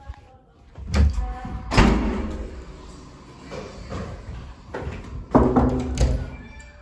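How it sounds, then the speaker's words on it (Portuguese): A door slams shut during a heated exchange, giving several heavy thuds and bangs across a few seconds, each with a rattling ring-out, over quiet room noise. "Por que você bateu a porta?"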